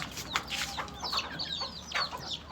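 Hens and chicks in a fenced backyard coop cluck and peep close by, a busy overlapping chorus of short high chirps and soft clucks with no talk.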